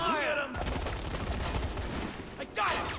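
Rapid bursts of gunfire in the video game Dead Rising 3, dense and continuous for a couple of seconds over a loud, busy battle mix, with shouted voices at the start and end.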